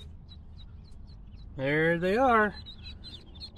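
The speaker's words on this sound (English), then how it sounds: "we made it home with the baby Cayuga ducklings" Baby Cayuga ducklings peep faintly in the background, a few thin high chirps scattered across the clip, while a person speaks briefly partway through.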